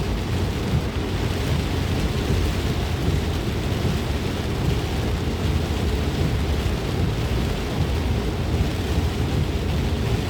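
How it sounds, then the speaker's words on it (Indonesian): Heavy rain pouring steadily onto a toll road heading toward Cileunyi, a dense loud continuous wash with low rumbling underneath, no voices. "Turun hujan ya teman-teman"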